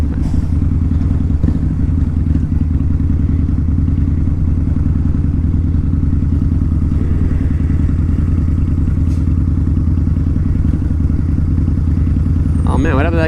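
A 2003 Harley-Davidson V-Rod motorcycle being ridden, its engine droning loud and steady with a deep throbbing rumble, recorded close while moving, with light wind buffeting and a brief rattle near the end.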